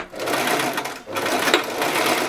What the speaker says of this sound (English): We will now go over to our sewing machine and sew around